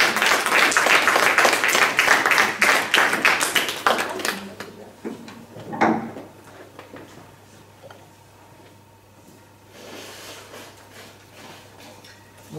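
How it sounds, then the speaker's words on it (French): Audience applause at a church talk on faith and forgiveness: dense clapping for about four seconds that fades out, followed by a quiet room with a few scattered claps and faint sounds. "On peut applaudir."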